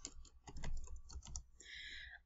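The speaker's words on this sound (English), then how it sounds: "here I can type in the title" Quiet, close computer keyboard typing: a quick run of soft key clicks with short pauses, as a quiz title is entered, with a faint tonal hum in the background.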